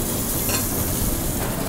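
A skate wing chop searing in oil in a hot pan, a dense, even hiss of frying that stays loud and close throughout with no voices.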